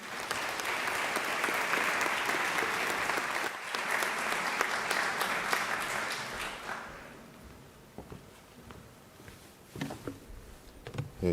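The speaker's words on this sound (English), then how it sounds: "give him a round of applause as he ascends to the podium" Graduation ceremony audience applauding as a speaker ascends to the podium, broad steady clapping for about seven seconds that then thins out to scattered claps and faint movement.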